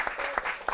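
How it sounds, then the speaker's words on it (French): Brief burst of audience applause at a comedy show semi-final, loud and dense with a few sharper swells in under a second. "On applaudit ces candidats. Très très fort."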